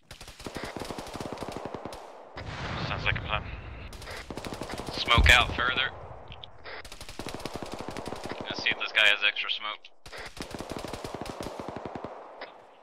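Automatic weapon bursts from a military shooter game set on a desert highway, repeated rapid gunfire volleys throughout, some bursts loud and close, with players talking over the shooting.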